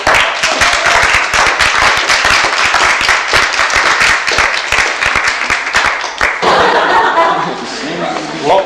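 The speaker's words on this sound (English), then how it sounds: "So a big round of applause." Loud, dense applause from an audience at a memorial tribute, a steady rapid patter of many hands that continues throughout and shifts near the end, with voices mixing into the crowd noise.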